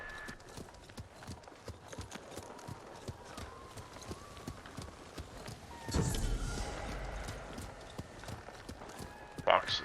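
Horse hooves clip-clop in a rhythmic run through Ghost of Tsushima game audio, a soft steady patter under ambient game sound and a louder rustling burst near the end.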